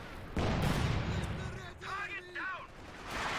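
In the real-time strategy game Company of Heroes 2, a landmine blast under advancing infantry is followed by scattered gunfire, while a commentator keeps talking over the battle.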